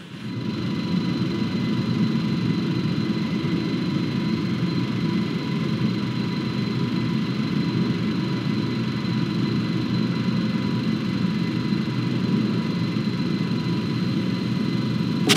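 A spaceship's engines run at maximum in Rebel Galaxy, a steady, loud, low roar with a faint high whine that holds unchanged throughout, no talking.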